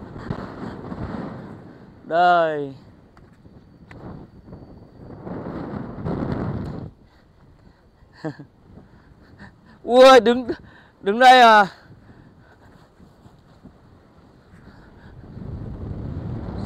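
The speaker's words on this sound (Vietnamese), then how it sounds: "ui gió ác thế" Strong mountain wind gusts batter the microphone at a cloud-watching summit in Tà Xùa, a steady roar with surges under bursts of Vietnamese talk.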